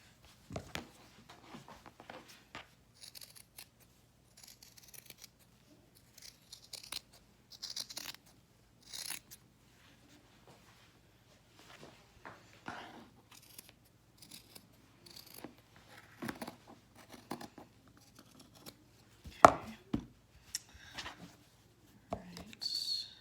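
Scissors cutting fabric for reusable make-up remover pads, a series of close, crisp snips in irregular bursts with quiet gaps between, growing sharper near the end.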